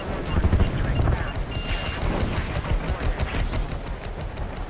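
Turret gunners in Prototype 2 unleash heavy rapid gunfire, a loud dense barrage of bursts and booms that stays continuous throughout.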